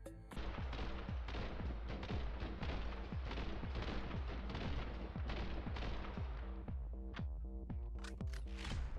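Rapid gunfire in the shooter The Hong Kong Massacre, a steady stream of loud, punchy shots in quick rhythm over a thick background, with a few scattered sharper cracks near the end.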